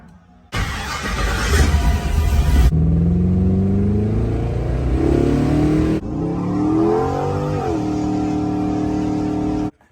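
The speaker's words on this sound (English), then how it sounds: "How would you like to know how to do an LS swap in an old school car that run like this?" A 1972 Chevrolet Impala with an LS V8 swap making almost 600 horsepower revs loudly and close, rising and falling through several throttle blips over a steady idle rumble.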